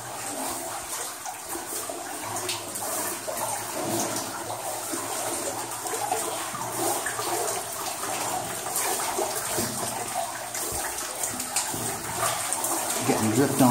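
Water sounds inside the abandoned Lost Horse Mine, with steady running and splashing and scattered drips that build slightly over about fourteen seconds, while people move and talk nearby.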